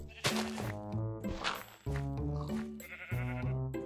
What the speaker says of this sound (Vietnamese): nghe thấy tiếng cừu rồi này